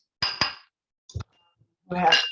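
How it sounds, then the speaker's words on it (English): Glass food containers with airtight tops clink against each other on a kitchen surface, a few sharp close clinks and knocks separated by silence, ending in a brief clattering cluster. "These are glass containers."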